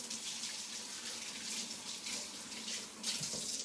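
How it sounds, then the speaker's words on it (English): A kitchen tap runs steadily into a sink while hands are washed under it, a close, continuous hissing splash of water with slight surges as the hands move through the stream. "I'm just going to wash my hands really quick."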